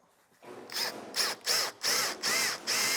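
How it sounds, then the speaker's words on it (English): A power drill whirs in about six short, loud bursts separated by brief pauses, close by, drilling screw holes for a skateboard rack. "Put a mark here. Drill these out."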